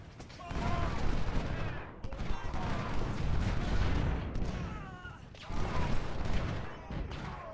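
Massed musket volleys and artillery fire rumble almost nonstop in the Civil War strategy game Ultimate General: Civil War, a dense, crackling barrage with a few brief pauses, while someone talks faintly underneath.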